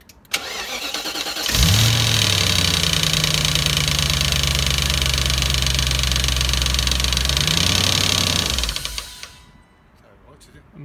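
A BMW E34 540i V8, fresh from a new chain tensioner and new oil, cranks briefly and catches, then idles steadily and loudly for several seconds before shutting off, with no talk over it.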